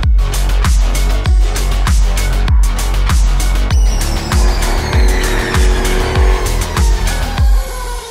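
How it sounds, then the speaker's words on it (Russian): A Jaguar F-Type drifts on dry asphalt. Its tires squeal loudly in long wavering shrieks over a roaring engine that pulses with regular revs and gear changes throughout, close by. "у нас сухой асфальт, но ее бросает в дрифт"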